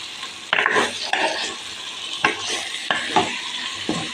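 Mutton frying in oily masala, stirred briskly in a pan: loud sizzling broken by repeated scraping strokes of a spoon against the metal, close up, with no talking.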